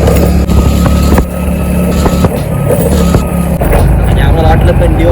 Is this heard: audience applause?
no